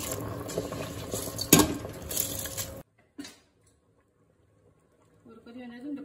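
A pot of rice with tamarind water for kootanchoru bubbles and simmers with a steady wet gurgle for a few seconds before cutting to near silence, then a voice begins speaking.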